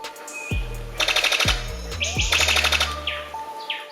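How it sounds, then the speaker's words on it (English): A sicklebill bird in forest gives a loud, sharp call with sudden low booming pulses like gunshots, each followed by a trailing drone, mixed with high chirps and whistles. "hearing what sounds like gunfire. You might get a bit scared, but don't worry. It's not a gun, it's just the sicklebill"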